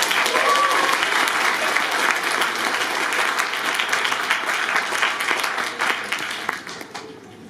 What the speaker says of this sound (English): Can you guys please give him a round of applause?